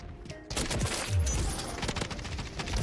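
Rapid automatic fire from a conversion kit weapon in Modern Warfare 3 rattles in a dense, continuous burst after a brief quiet moment, loud and close amid multiplayer combat.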